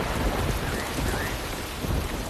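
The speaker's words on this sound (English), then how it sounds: "The rains are welcomed by most animals" Heavy rain pouring steadily on the African savanna with low rumbling thunder underneath, a dense close wash of sound with no voices.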